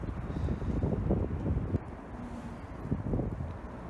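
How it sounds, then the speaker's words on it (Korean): Strong wind buffets the microphone at a riverside bass fishing spot on a stream, a loud continuous rumbling gust noise with uneven surges and no voices. "바람 더 심하게 부네 이거"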